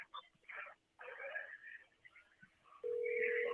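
A telephone call rings through on a phone held up to a speaker: a steady ringback tone sounds near the end, following muffled, faint voices talking over the line.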